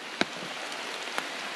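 Rain falls around a tree outdoors in a steady soft hiss, with a couple of louder drops striking close by.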